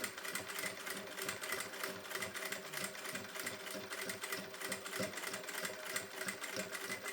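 A sewing machine stitches along a seam of a hook-and-eye top, a continuous rapid mechanical chatter with a fast, even pulse, fairly quiet and close, with no talking.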